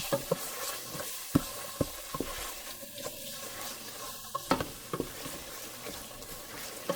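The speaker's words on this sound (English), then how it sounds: "garlic powder, then I will stir. I'm doing this because I don't want my pot to start burning" A spoon stirs jollof rice seasonings with garlic powder in a pot, giving scattered close knocks and scrapes over a soft, low sizzle.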